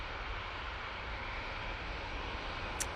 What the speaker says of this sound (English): That's off to Marseille, that Ryanair